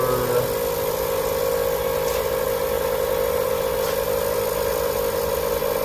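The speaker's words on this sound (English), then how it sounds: "we'll turn it on and it'll pump it up" A portable tire inflator pumps up a Tesla tire, giving a loud, continuous motorized buzzing drone that holds steady from start to finish with no talk.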